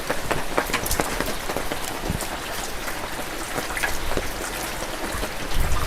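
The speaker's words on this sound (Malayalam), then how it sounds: "ഈ ഷീറ്റിൽ നിന്ന് വീഴുന്ന വെള്ളം" Rainwater runs and drips off a roof sheet in a steady, close patter of drops, with no voices.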